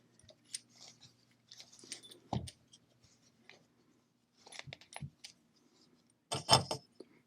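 Jetboil Minimo stove parts and a burner being packed into a drawstring stuff bag, heard as quiet, sparse rustles, light clinks and fabric scuffs close by, ending in a louder rattling clatter.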